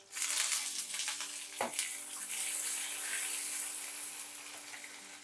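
Shallots, dried red chillies and curry leaves frying in hot oil for a tempering for village-style chicken kuzhambu, a steady soft hiss and sizzle with one brief crackle near the start.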